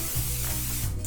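Non-stick cooking spray hisses briefly onto a sheet pan, a short close aerosol burst with faint rubbing around it.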